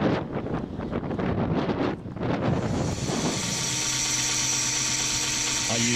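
Aboard a sailboat, a high-pitched electric drill whirs steadily in the second half, following a stretch of wind buffeting and rough handling noise near the microphone.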